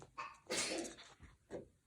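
A single short sneeze bursts out, followed by a softer breathy sound, close and quiet.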